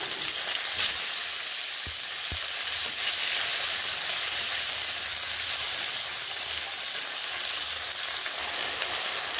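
Chopped tomatoes hitting hot oil with tempered spices in a pan for a small-fish curry, giving a loud, steady broadband sizzle and hiss close up, with a couple of dull knocks early on.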